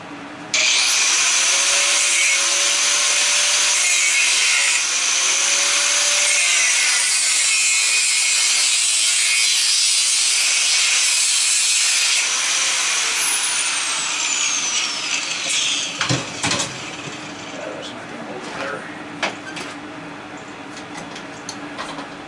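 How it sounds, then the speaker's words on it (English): A power saw cuts through the head of a brass frost-free water spigot, a loud, sustained rasping whine for about fifteen seconds, then scattered clunks and scraping as the cut finishes. "we'll go ahead and cut the head of that thing off"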